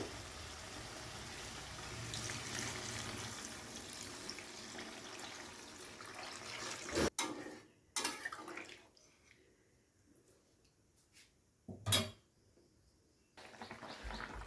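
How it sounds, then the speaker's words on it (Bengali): Water being poured into a pan of cooked-down spices for a fish curry gravy, a steady rushing pour for about seven seconds, then sharp knocks and quiet with faint drips. "এবারে ফাইনালি এখানে গ্রেভির জন্য দিয়ে দিচ্ছি জল।"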